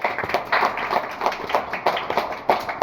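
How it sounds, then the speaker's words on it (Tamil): An audience at a temple talk claps in steady unison, with sharp bursts repeating at a regular rhythm through the whole stretch, close and fairly full. "இந்த உலகத்துல கைத்தட்டுங்க எல்லாரும்"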